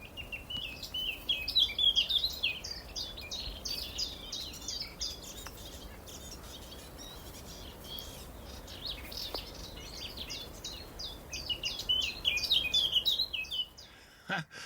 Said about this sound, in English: Now they were both singing at the same time, one superimposed on the other.